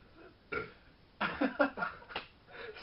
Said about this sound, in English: I don't like burping.